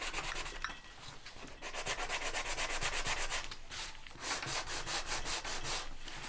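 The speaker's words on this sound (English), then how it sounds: "you just play around with the different sandpaper blocks or the different grits of sandpaper" A sandpaper block rubs back and forth over a painted wooden riser, producing quiet, close, rhythmic scratchy strokes with brief pauses between bursts.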